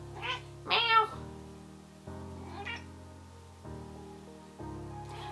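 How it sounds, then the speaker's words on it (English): Cat meows indoors, four drawn-out calls in a row with short pauses, fairly close and moderately loud, the second one higher and more strained than the rest, with no talking over them. "Meow. Meow."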